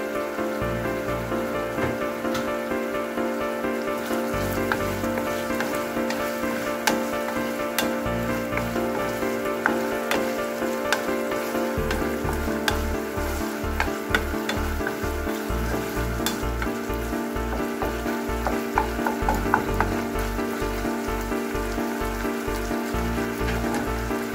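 Ground pork fries with oyster sauce in a pan, giving a steady, close, dense sizzle with crackles and small pops. The sizzle runs unbroken for the whole stretch and no one speaks.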